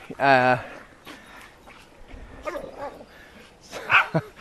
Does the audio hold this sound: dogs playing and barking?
yes